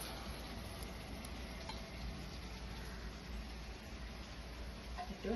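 Onions frying in a pan, a soft, faint, continuous sizzle with a slight scrape near the end and no talking.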